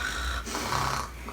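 A person imitates loud snoring in a dramatic recreation, producing one drawn-out, rasping snore with a snorting, guttural quality, close and unaccompanied.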